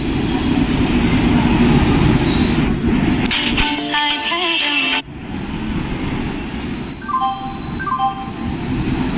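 Close Indian Railways train (12020 Ranchi–Howrah) rumbling into a station with harsh, high-pitched metallic wheel squeals in the middle and shorter squeaks near the end, over a heavy low roar.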